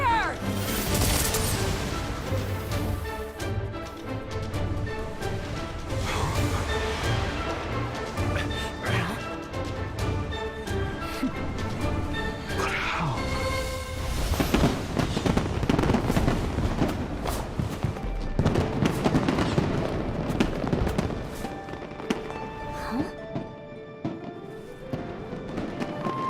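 Dense, continuous booming and crackling like fireworks fills the whole stretch, loud and layered throughout without pauses.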